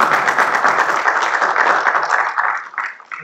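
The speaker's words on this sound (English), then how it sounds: "So just a round of applause for those students" Clapping at a Hauppauge school district board of education meeting honors student competitors, a lively round of applause from a modest room that thins out and tapers to scattered claps near the end.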